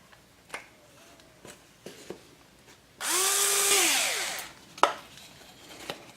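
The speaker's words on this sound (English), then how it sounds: "And we'll drill through." A power drill fitted with a 1/8 inch bit whines for about a second and a half, rising and then falling in pitch as it bores through a pan and deck during a bell build, with scattered clicks and knocks before and after.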